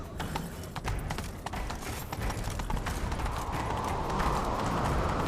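Steady clip-clop of horse hooves at a gallop in The Witcher 3: Wild Hunt, loud and continuous, with a rising rush of wind or game ambience toward the end.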